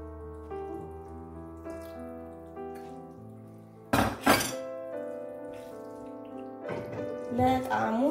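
Water splashes into a pot of ground beef and potato in two short pouring bursts, the second longer and gurgling, over soft background music.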